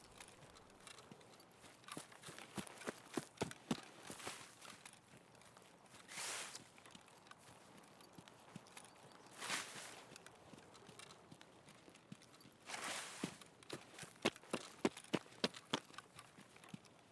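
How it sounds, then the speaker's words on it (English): Footsteps crunching in the Escape from Tarkov video game, a faint irregular run of soft steps with brief louder rustling bursts spread across the stretch, quiet and somewhat distant. "I heard a footstep crunch then"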